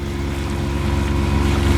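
A boat engine running steadily at 3,000 revs with weed on the hull, pushing along in Moreton Bay: a loud, constant low droning hum with a slight rise in level, and no voices.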